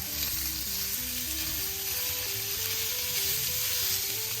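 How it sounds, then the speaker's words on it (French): Ground beef sizzles loudly in a hot pan with browned ingredients, stirred and scraped continuously, the frying hiss steady throughout with no voices. "J'ajoute maintenant le bœuf haché et je vais bien mélanger."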